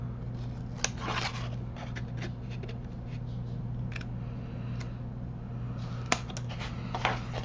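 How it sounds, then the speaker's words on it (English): Scissors cut a paper square out along its score lines while crafting a Christmas mini album, giving soft, close snips and rustles over a steady background hum. "you're going to cut out that square"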